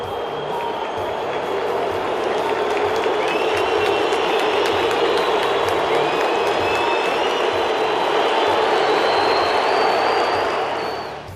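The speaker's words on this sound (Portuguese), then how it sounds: "na saída o torcedor do Cruzeiro vaiou" Cruzeiro football fans boo at the stadium: a loud, sustained crowd roar with whistles running through it, steady and unbroken, with no talk.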